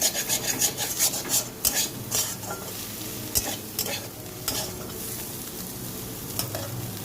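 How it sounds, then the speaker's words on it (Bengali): Chowmein with egg and vegetables being stir-fried in a pan, with steady sizzling and repeated scraping stirs of a spatula, close and alone without talk. "ডিম সবজি সব একসঙ্গে ভাজা হয়ে গেল। এর মধ্যে এবার চাউমিনটা দিয়ে দেবো।"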